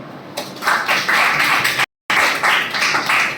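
An audience at a college guest lecture breaks into steady, dense applause. The clapping runs continuously and fairly loud, with one brief silent gap near the middle.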